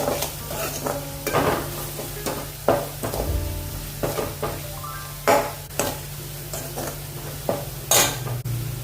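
Spatula scraping and clinking through radish sabzi with red chili, turmeric and amchur powder in a frying pan, irregular stirring strokes over a soft sizzle, close and alone.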